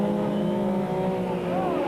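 Race cars in the 1998 Super Series running up a hill, engines holding a loud, sustained howl with a rising whine near the end, heard continuously without a break.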